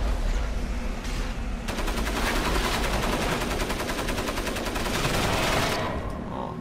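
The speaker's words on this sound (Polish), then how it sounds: "Nawet broń sobie strzelają." Rapid automatic gunfire from a video game, a dense continuous burst of shots lasting several seconds over steady background rumble.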